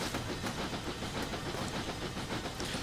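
Close, steady hiss and rumble of a narrow gauge steam train hauling carriages in North Wales, with no break and no voices.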